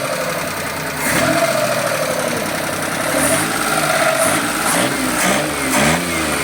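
Small engine of a Suzuki Multicab F6A mini van, which had been losing power, revved up and down several times in quick swells from a steady idle, close and fairly loud with no talk.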